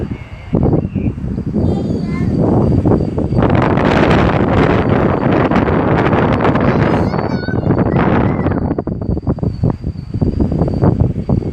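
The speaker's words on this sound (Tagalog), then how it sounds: "Pero ang hangin o, lamig na kaya." Wind buffets the microphone in loud, gusty rumbles that swell and ease, with some rustling mixed in nearby, on a cold winter day in Kuwait.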